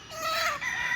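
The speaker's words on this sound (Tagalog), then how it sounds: "Ang daming tandang oh." Roosters crow at a game farm, one drawn-out cock-a-doodle-doo filling the moment with other crowing overlapping nearby, loud and close with no talk over it.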